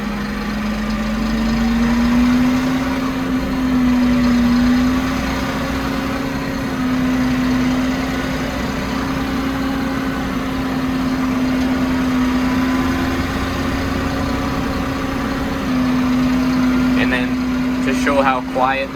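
A Fendt 200 Vario tractor engine runs steadily and rises slightly as the pedal is pressed, a continuous close drone with small pitch swells, and a voice speaks briefly near the end.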